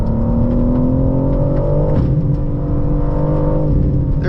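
A 2025 BMW M4 CS engine pulls hard and close in fourth gear, its drone rising steadily in pitch under load.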